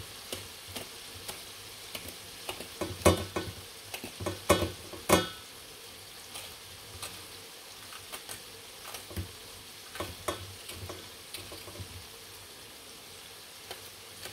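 Onions sizzle softly in a hot pan, with irregular clicks and taps of a utensil stirring, louder knocks clustered early on.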